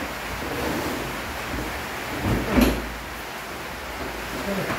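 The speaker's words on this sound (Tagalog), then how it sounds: "Tuloy-tuloy po ang ulan, eh." Steady broadband hiss of continuous rain, with a brief louder rush midway as if a gust or heavier burst passes.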